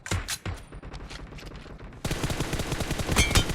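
Rapid automatic gunfire from the BGMI video game, loud and dense. Shots come in quick bursts, then become a sustained continuous volley about halfway through.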